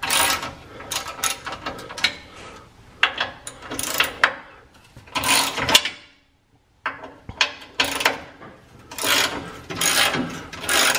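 Repeated clicking of a ratchet with an extended socket as it loosens skid plate bolts on a Ram truck, coming in close bursts of rapid clicks separated by short pauses.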